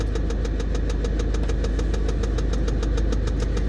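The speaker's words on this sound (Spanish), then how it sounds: "cada vez que voy a encender el carro, tengo ese sonido por un buen rato" A car engine runs at a steady, rough idle with a regular pulsing beat, loud and close, with no talk over it.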